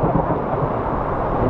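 Steady heavy rumble of a storm with thunder and rain outdoors at a street music festival, a dense continuous wash of broadband noise throughout with no clear breaks and no talk.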